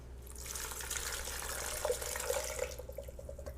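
Warm water pours into a blender from a jug, a steady rushing splash that builds and bubbles for a few seconds before tapering off near the end, with no voices.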